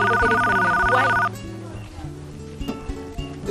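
An old-fashioned telephone bell rings loudly for just over a second and then stops, leaving a music and voice backdrop with people talking.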